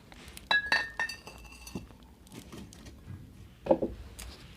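A glass bottle of oil is handled up close, giving a few light clinks and taps of glass with soft shuffling between them and a brighter knock near the end.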